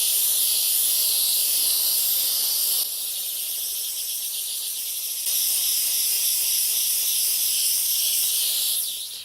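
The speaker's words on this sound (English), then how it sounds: "And the steam is very powerful." A Polti Vaporetto steam cleaner blasts a loud, continuous hiss of steam at close range while cleaning cracks, with brief dips in pressure midway and no talking.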